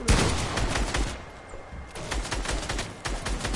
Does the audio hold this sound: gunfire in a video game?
yes